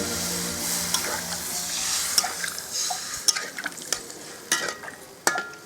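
Water poured into a pan of frying potato curry, with loud sizzling and hissing that settles into bubbling, and scattered clinks of a spoon stirring against the pan.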